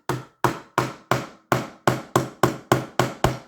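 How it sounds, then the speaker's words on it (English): A hammer taps frets on an Ibanez Mikro guitar to seat them, giving about ten sharp, evenly spaced knocks, each decaying quickly, close and alone with no talking. "I'm going to use my hammer, and I'm going to try to just set these frets"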